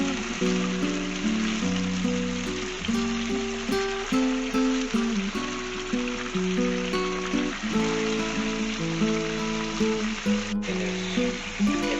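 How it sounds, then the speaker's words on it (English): Chicken for karahi fries on a high flame, a steady, dense sizzle and crackle continuing without pause for the full stretch, close and fairly loud, with no voices. "So we have to fry it on a high flame."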